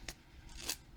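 Scissors trimming a glitter sticker sheet, two faint quick snips in a quiet room.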